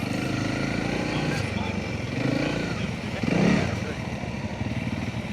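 A BMW GS-type adventure motorcycle stuck on a Spanish trail revs its engine in steady, strained bursts with a brief louder surge, heard at mid distance amid outdoor noise.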